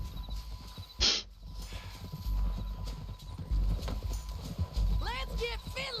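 Horse hooves clip-clop in the Red Dead Redemption 2 western video game, a near rhythmic patter with a brief whinny. Voices talk over the hoofbeats.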